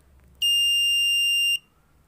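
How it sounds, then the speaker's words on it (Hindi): A sunlight-triggered alarm buzzer on a robotics kit sounds one steady, piercing electronic tone lasting just over a second, loud and alone against a quiet room. "तो देखो बजर रिंग कर रहा है"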